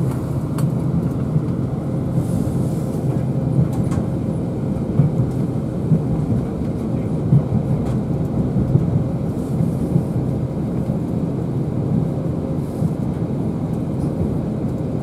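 TransPennine Express train pulling out of York: a steady, loud low rumble of the moving carriage heard from inside, continuous with faint rattles and clicks throughout.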